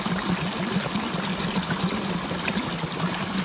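Water trickles steadily as it is poured into a drink outdoors in a village setting, a continuous close splashing stream with an even, bubbling texture and no pauses.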